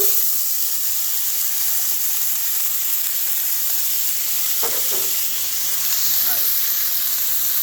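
Corn kernels sizzle steadily in a hot pan, a dense, even frying hiss that runs loud throughout with a few faint stirring knocks.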